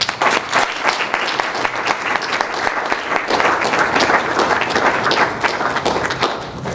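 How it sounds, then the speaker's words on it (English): An indoor audience gives a loud, sustained round of applause welcoming a speaker at an evening book event in Arlington, Virginia, with dense clapping filling the whole stretch and easing slightly at the end. "So please welcome, with a big round of applause, Dr. Alda Benjamin."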